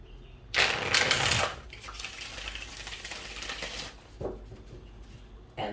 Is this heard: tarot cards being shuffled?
yes